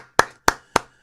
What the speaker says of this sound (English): I gotta clap it up.